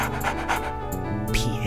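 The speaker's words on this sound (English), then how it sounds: "Dead eyes, scary dog." A dog in the fishing video game Reel Fishing III pants in quick, rhythmic breaths, fairly close and steady, layered over soft game background sound.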